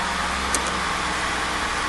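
A Honda Odyssey minivan engine, with its idle air control valve just replaced, runs at a raised steady idle, a close continuous hum and rumble with one brief faint click, no talking.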